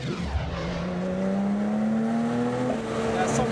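A Porsche GT3 accelerating from about 80 toward 100 km/h, its engine note rising steadily from inside the car while people talk over it.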